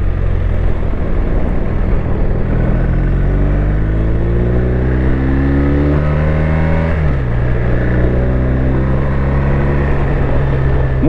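A 2021 BMW R1250 RT motorcycle being ridden, its engine droning loud and steady with a rising pitch as it accelerates, a brief dip at a gear change, then pulling on under strong wind noise.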